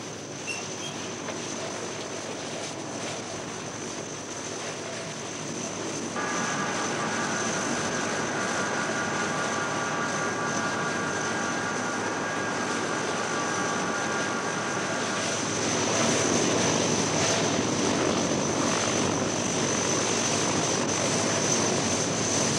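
Steady, loud drone of large transport aircraft engines heard from inside the hold during flight, a constant rumble with a brief tonal hum in the middle and a slight rise in loudness toward the end.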